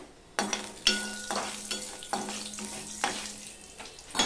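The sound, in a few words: black cumin seeds tempering in hot oil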